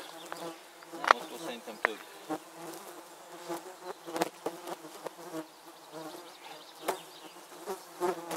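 A dense swarm of flies buzzes continuously and close to the microphone on a mountain hiking trip in Transylvania, with overlapping whines rising and falling and no talking.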